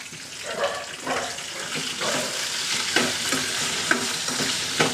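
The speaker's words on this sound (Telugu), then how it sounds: "నెల్లేరుకాడ ఆకులతో సహా అందులో వేసుకోండి. వేసుకొని మనం కొద్దిగా దోరగా వేగేలాగా అయితే దాన్ని వేయించుకోవాలండి." Nalleru stalks with their leaves frying in a pan, a steady sizzle broken by repeated scraping and stirring strokes, close and fairly loud with no talk.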